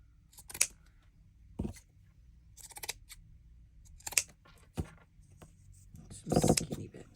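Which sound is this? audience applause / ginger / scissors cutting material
scissors cutting material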